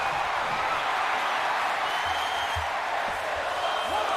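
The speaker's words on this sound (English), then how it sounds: "the crowd with "This is awesome" chant" Arena crowd in a wrestling video game, a steady loud roar of chanting and cheering filling the whole stretch with no break.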